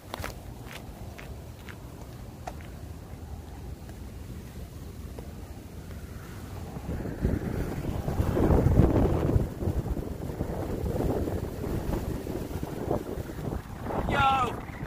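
Strong wind gusts across an exposed cold-weather campsite with rustling leaves, building from a steady low roar into louder buffeting bursts on the microphone, with faint footsteps and handling sounds.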